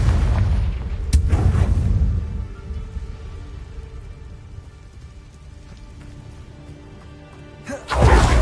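Confringo fire spell blasting in Hogwarts Legacy, with a sharp explosive burst near the start and another at the end, separated by a crackling, rumbling tail of debris and ambient game sound.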